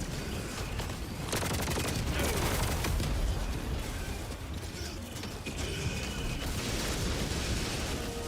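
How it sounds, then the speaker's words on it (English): A sentry turret called down in Helldivers 2 fires continuously among dense explosions and mechanical clatter, making a loud, unbroken barrage of blasts and bursts throughout. "Calling down a sentry."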